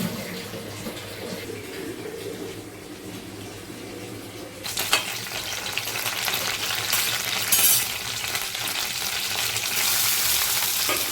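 Onion frying in hot oil in a wok for a mushroom dish: steady frying sizzle that swells louder partway through, with broad hissing crackle continuing to the end and no talking.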